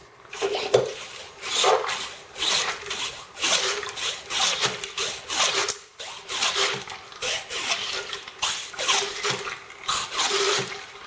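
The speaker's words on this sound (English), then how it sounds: "this draws the water up into the barrel, pumping this back and forth. And that really scrubs that out good" Water is pumped back and forth inside a black powder rifled musket barrel during cleaning, making rhythmic wet swishing and scrubbing strokes that repeat at a steady pace, close by.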